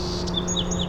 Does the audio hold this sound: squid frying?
no